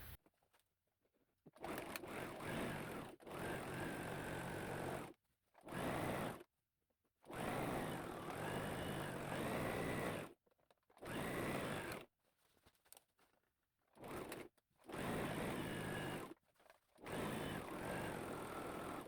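A sewing machine runs in repeated bursts of steady motor whir while back-stitching a seam on homemade shorts, each run lasting a few seconds, separated by short quiet pauses, close and fairly loud.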